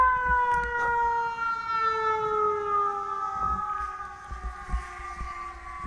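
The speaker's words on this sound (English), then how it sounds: "Apologize for the sirens in the background." Fire department sirens wail in the background during a cricket match, long sustained tones that slowly fall in pitch and hold steady, fairly loud and continuous, with faint scattered knocks and voices around them.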